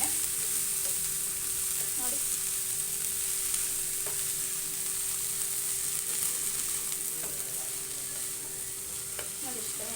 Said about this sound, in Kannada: ಒಂದು ಎರಡು ಸ್ಪೂನ್ ಎಣ್ಣೆ ಸೇರಿಸ್ಕೊತೀನಿ ನೋಡಿ ಇದೊಂದು ಫ್ರೈ ಮಾಡ್ಕೊಳ್ಳೋಣ ಸ್ವಲ್ಪ ಮೆತ್ತಗಾಗುವಷ್ಟು ಅಷ್ಟೇ